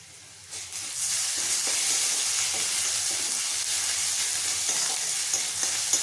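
Ginger-garlic paste with onion fries steadily in a pan, giving a continuous hissing sizzle after a brief quiet start, with faint stirring scrapes throughout.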